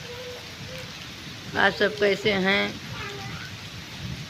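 Steady rain falling outdoors, a soft continuous hiss running beneath a woman's brief spoken greeting in the middle.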